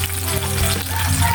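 Food sizzling in a pan for a home breakfast, a steady bright frying hiss with faint clinks of cooking underneath, close and continuous with no talking.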